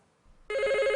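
A game show buzzer goes off after a brief soft rustle, a loud, sustained telephone-like electronic ring that starts abruptly and holds to the end, close by.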